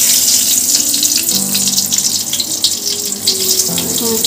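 Dried chilies, bay leaf and five-spice seeds crackle and sizzle in hot oil in a pan, a loud, dense, continuous hiss that fills the whole moment with no talking.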